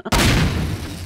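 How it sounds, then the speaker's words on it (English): A single loud explosion in Garry's Mod booms suddenly after a brief click, then rumbles and fades over about a second. "Here comes a big explosion,"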